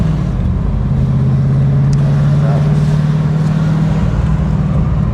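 A 1991 Camaro Z28 with a five-speed manual and G92 performance package idles steadily, its exhaust giving a deep, constant low rumble that stays even and close throughout.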